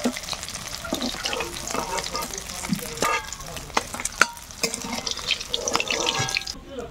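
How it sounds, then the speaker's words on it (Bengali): Fresh sea fish frying in oil in a pan, a steady crackling sizzle with stirring and scraping throughout, close and fairly loud, with no voices. "মাছগুলো ভেজে নিলাম লাল লাল করে, এবার তুলে নেব"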